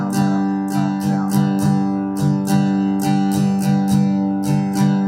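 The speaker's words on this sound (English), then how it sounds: "this is actually probably the most common strum pattern in all pop music" Steady guitar strumming in a down-down-up-down-up pattern, the common pop strum, with even rhythmic strokes repeating about twice a second, close, sustained chords ringing under each stroke and no voices.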